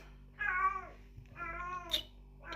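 A cat meowing in two drawn-out, wavering yowls close by in a quiet room, followed by a short cut-off call, with no talking.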